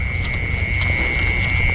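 Small frogs croak at night in a Mekong Delta field, a steady high-pitched trilling chorus that carries on without a break over a low outdoor rumble.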